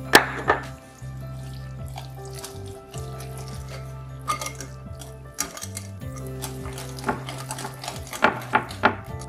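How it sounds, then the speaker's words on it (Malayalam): A spoon stirs semolina idli batter in a bowl, making intermittent scraping and clinking strokes with a few sharper knocks near the end, over a constant low kitchen hum. "ഇതിപ്പോ ഞാൻ നന്നായിട്ട് മിക്സ് ചെയ്തിട്ടുണ്ട്"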